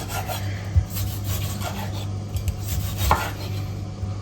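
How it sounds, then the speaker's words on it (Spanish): A kitchen knife finely slices tomatoes on a board with soft, rasping strokes and a couple of louder knocks, steady and close, with no talk. "Cortamos bien finito los tomates."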